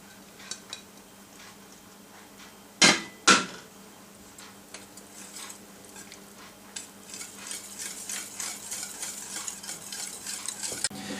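Grated cheese, about 200 grams, being stirred into a cauliflower cheese sauce in a pan: a steady soft scraping and stirring with faint sizzle, broken by two sharp utensil clacks near the start.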